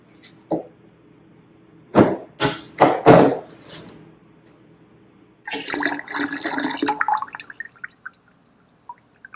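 Warm water is poured to rinse the last honey into a batch of mead, heard as several short splashes and then a longer, steadier pour that trails off into a few drips, close and clear.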